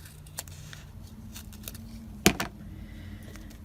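Fabric scraps on a textile journal page trimmed with scissors: a few soft, scattered snips and rustles, then one sharper, louder cut near the middle, close up in a quiet room with no talking.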